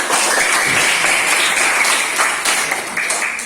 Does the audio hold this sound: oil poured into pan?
no